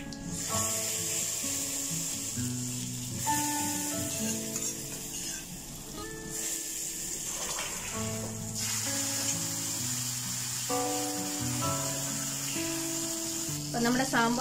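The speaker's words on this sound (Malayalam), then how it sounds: "ഇനിത് സാമ്പാറിലോട്ട് ഒഴിക്കാൻ പോവാം" A hot tempering of fried spices is poured into Kerala sambar, setting off a steady, fairly loud sizzle close by with stirring under it, while music plays in the background.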